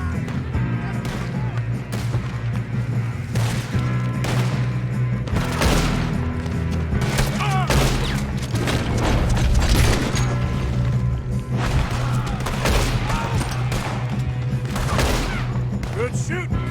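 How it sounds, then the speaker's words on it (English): Gunfire from a shootout in Red Dead Redemption 2, with dense overlapping shots and bursts over a steady game soundtrack, continuing loudly throughout with game voices mixed in. "Good shooting, kid."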